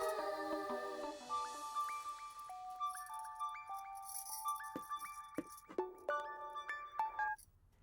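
A melodic electronic ringtone plays a repeating series of bright stepped tones, loud and close, cycling several times without any talking.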